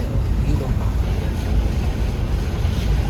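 Vehicle driving through a small river on a road toward North Chehalis, with a continuous loud rushing and splashing of water and wind buffeting, no clear speech.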